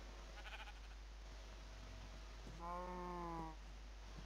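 A single sheep bleat from a farm video game rings out for about a second, faint and clear over a quiet low background hum.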